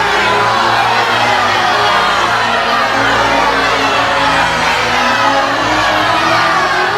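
An angry crowd in a Christmas 2013 biblical pageant shouts and jeers at a condemned man carrying a cross, a dense, loud, unbroken roar of many voices lasting throughout.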